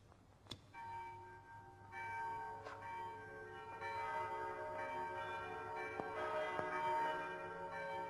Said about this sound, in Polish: Dzwonią do kościoła.